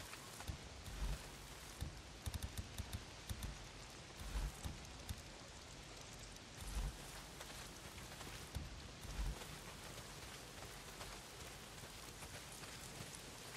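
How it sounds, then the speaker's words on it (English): Steady heavy rain falls throughout the Days Gone game world, a dense continuous hiss with occasional louder spatters and low thumps, no voices. "it's pissing down the rain"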